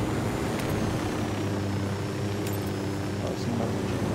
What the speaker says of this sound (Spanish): Me voy a llevar el helicóptero para disparar eso.